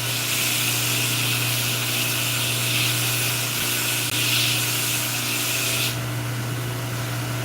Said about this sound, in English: you guys watch Cheyenne grind stuff for a minute